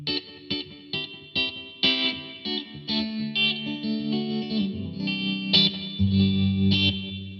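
Plucked guitar notes and strummed chords with a bright, slightly shrill modeled acoustic tone of a Martin dreadnought preset (MD35), played alone with a steady, ringing rhythm.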